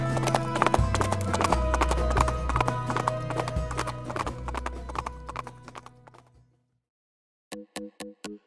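Horse hooves clip-clop steadily and loudly for about six seconds, carrying two riders over a long ride beneath layered music, then a brief pause before a short, sharp burst of hoof strikes.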